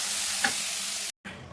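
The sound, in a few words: mint and green chili paste sizzling in oil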